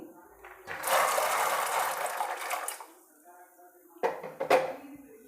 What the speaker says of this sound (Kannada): ಪಾತ್ರೆಯಲ್ಲಿ ನೀರು ಇಟ್ಕೊಂಡಿದ್ದೀನಿ ಕಾಳನ್ನ ಸೇರಿಸ್ತಾ ಇದ್ದೀನಿ